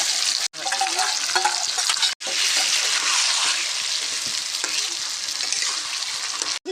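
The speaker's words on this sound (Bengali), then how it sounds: "মাংসগুলোকে দিয়ে কষি ভালো করে নেড়ে চেড়ে কষিয়ে নেবো" Mutton pieces frying with onions in a pan give off a loud, steady sizzle, with continuous stirring and scraping close by. No one speaks.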